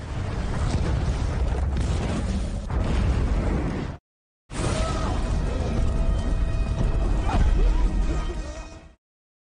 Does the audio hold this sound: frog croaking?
no